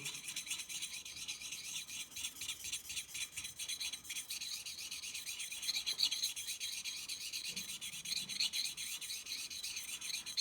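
The back of an inexpensive Harbor Freight chisel scrapes steadily over a sharpening stone in a continuous, even rasp with a repetitive back-and-forth rhythm, close by and fairly quiet, with no voices.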